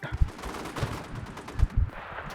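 Gunfire rattles in the World War II shooter video game Enlisted, several sharp bursts and single shots at moderate volume, spaced irregularly over a couple of seconds.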